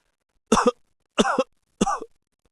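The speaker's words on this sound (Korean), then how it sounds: "침전환을 울리는 기침소리" An ailing Joseon crown prince coughs three times in a palace bedchamber. Each cough is harsh and close, and the evenly spaced bursts are separated by silence.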